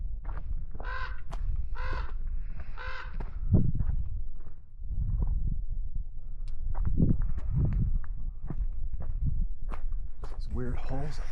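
Crows cawing in a desert canyon in Nevada, a series of harsh repeated caws at moderate distance, with footsteps crunching and someone talking at times.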